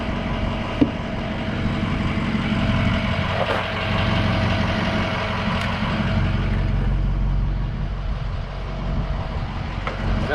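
A 2006 Ford F350 with the 6.0 diesel idles steadily, a loud, continuous low engine rumble with a fine rattling clatter, close by, with no talk over it.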